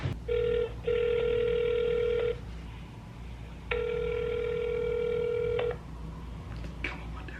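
A telephone call rings out over a line, two long electronic ring tones with a pause between them, clear and steady above a low background hum, with no one talking.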